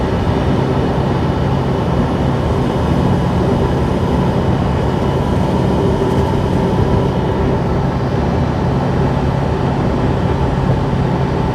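A string of about 22 railway locomotives coupled together with no cars rolls slowly past, a continuous loud, low rumble that holds steady throughout with no speech.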